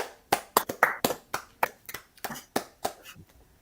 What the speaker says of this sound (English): Give it a round of applause for Curtis McElhinney.